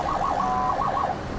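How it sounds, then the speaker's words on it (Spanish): An armored car's siren system wails loudly nearby, a warbling tone that rises and falls in quick repeated sweeps, alone without voices. "Un sistema de sirena para llamar la atención y que la policía llegue antes."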